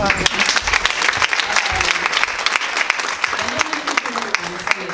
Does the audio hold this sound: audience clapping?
yes